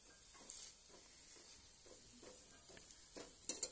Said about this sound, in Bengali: এগুলো লাল করে ভাজতে হবে, একটু বেশি টাইম লাগে ভাজতে।